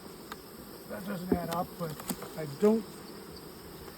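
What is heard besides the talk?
honeybees buzzing around hives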